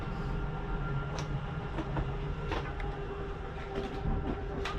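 Slide-out motor on a 2022 Jayflight Bungalow 40LOFT travel trailer running with a steady low mechanical drone and faint clicks, fairly quiet and continuous for several seconds, with no talking.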